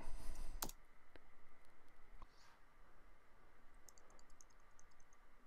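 A computer keyboard typing a password, heard as a few sparse, faint clicks and taps close by in a quiet room after a louder clatter at the start.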